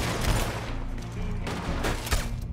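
Gunfire from a Red Dead Online shootout during a mission, with several sharp shots and booming reports over a steady game backdrop across a few seconds.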